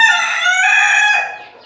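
A hen on a Pakistani poultry farm gives a single drawn-out, harmonic call, loud and close, rising slightly midway before trailing off, with no other sound around it.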